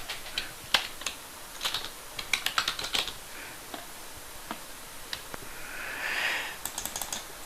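Keys tapped on a computer keyboard while entering text, irregular bursts of crisp clicks with short pauses between, close and clear with no talking.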